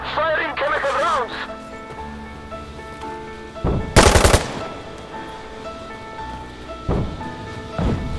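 Gunfire in the game Insurgency Sandstorm: sharp, loud bursts of shots cracking out at intervals, one heavy blast standing out, between stretches of shouted voices and background game noise.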